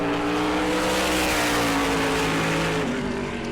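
A NASCAR Whelen Modified race car on a qualifying lap at New Smyrna roars loud and sustained, its engine note holding steady with a slight shift near the end, no voices over it.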